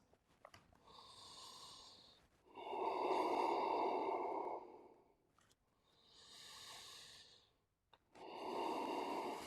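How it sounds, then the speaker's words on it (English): Slow, deep yoga breathing held in downward dog: long, audible inhales and exhales alternating in a steady rhythm, close and fairly loud, with no talking. "Breathing here."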